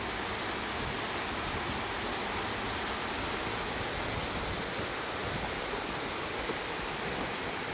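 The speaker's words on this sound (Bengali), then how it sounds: "সুন্দর বৃষ্টি বাইরে" Heavy rain pours steadily outdoors in a city in Rajshahi, a dense, even hiss that stays constant and loud throughout with no breaks. No voices are heard.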